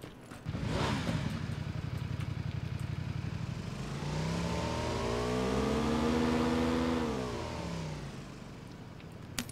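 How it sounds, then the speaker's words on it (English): A motorbike engine revs up in a video game, a loud, close roar that rises in pitch, holds, then winds back down after a sharp start. "We got a bike."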